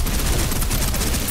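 Sustained suppressive gunfire in the Snowbreak video game, a dense, continuous rattle of rapid shots close and loud throughout, with no voices over it.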